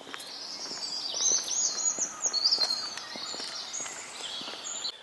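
Many small birds chirping and trilling together in a busy, continuous high chorus, fairly close, with faint footsteps and no talking.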